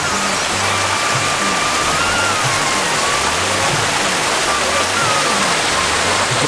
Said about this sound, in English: Just looking at this natural water now, coming from the mountain.